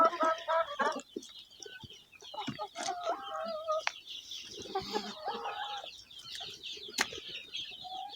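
A healthy broody hen clucks close by at dawn, in a steady run of soft, repeated clucks with some wing flapping and other chicken sounds, and no talking.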